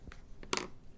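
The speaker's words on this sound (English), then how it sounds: "so let's go ahead and trim that off." Scissors snip off excess card paper in a paper-crafting session, two or three quick quiet cuts close by, with a crisp snap near the middle.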